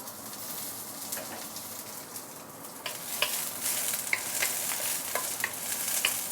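Ginger, garlic and dried chili sauté in hot oil in a wok, a crackling sizzle that swells louder partway through, punctuated by repeated spatula taps and scrapes.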